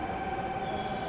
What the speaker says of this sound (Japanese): まもなく6番乗り場に列車が参ります。